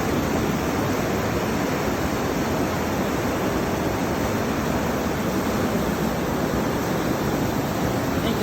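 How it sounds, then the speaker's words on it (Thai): Loud, continuous roar of rushing water at the Kaeng Huai Khaen rapids and waterfall, a dense steady wash with no pauses, heard close up and alone. "ภาพบรรยากาศน้ำตกน้ำโตนพี่น้อง น้ำโตนน้ำวนหมด"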